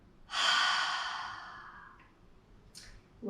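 A long, soft exhale through the mouth during a yoga flow, close and breathy, trailing off slowly, followed by a brief second breath near the end, with no talking over it.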